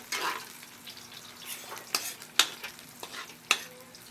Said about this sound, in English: Once the wok is piping hot with oil, sliced garlic in, sautéed until aromatic.